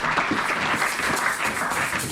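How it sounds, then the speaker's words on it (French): A church congregation applauds together for a couple of seconds, a dense, continuous patter of clapping filling the room at steady strength. "On acclame pour les rois des rois."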